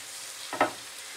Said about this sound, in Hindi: साथ ही इसमें बारीक कटी हुई गाजर डाल देंगे, कुछ सेकंड के लिए भूनेंगे।